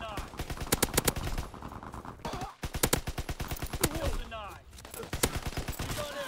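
Rapid automatic gunfire in the World War II shooter Call of Duty WW2: dense bursts of sharp, loud shots in quick rhythmic volleys, pausing briefly before resuming, with faint voice sounds underneath.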